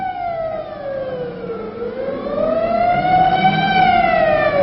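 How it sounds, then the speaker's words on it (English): A loud wailing civil defense siren slowly rises and falls in pitch, steady and sustained, with no talking. "as directed by the mayor, the siren sounds once more"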